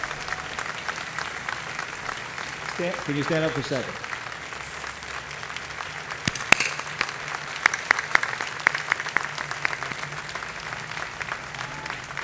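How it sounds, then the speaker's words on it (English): An awards ceremony audience at the Progressive Insurance Automotive X PRIZE gives scattered, moderate applause for a winning high school team, with crisp individual claps, while someone speaks briefly over it. "So how about a round of applause for that group?"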